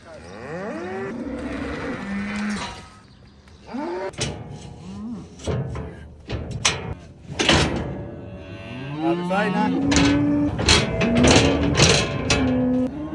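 Cows and calves bellowing and mooing repeatedly at close range in a cattle yard, overlapping calls with clanks and gate noises between them.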